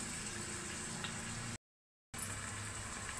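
Curry leaves and green chilli pieces hit hot oil in a pan, giving a soft, steady hiss and sizzle that cuts out briefly to silence midway, then carries on at the same low level.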